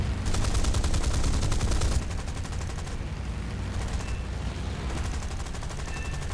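Rapid machine-gun fire from a Boomerang Mk I/Mk II fighter's 7.7 mm guns in a combat flight game, loud sustained bursts that continue steadily with an engine drone underneath.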